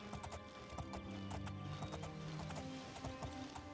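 Horse hooves clip-clop at a gallop in the Oblivion video game, a quick steady rhythm of close, loud thuds with an occasional whinny and no talk.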